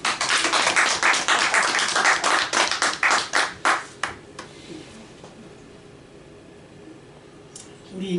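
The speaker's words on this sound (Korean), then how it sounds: "우리 박수로 환영합시다" A church congregation at a Christmas day service applauds in welcome, a burst of close, dense clapping that lasts about four seconds and then fades into quiet room tone.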